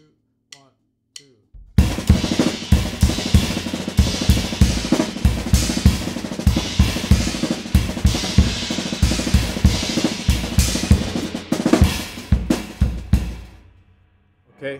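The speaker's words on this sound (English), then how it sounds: "you can take it onto the cymbals with the bass drum, and that sounds like this" A drum kit phrase played on the cymbals with the bass drum, in a lesson on Indian rhythmic phrasing: a loud, continuous run of crashing cymbal strokes with bass-drum thumps for about thirteen seconds, then a ringing fade.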